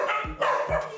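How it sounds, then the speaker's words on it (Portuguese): Dogs at a shelter for rescued animals bark loudly and close by, two sharp barks about half a second apart, with no voices. "A sinfonia dos latidos não deixou a gente conversar com ela dentro da casa"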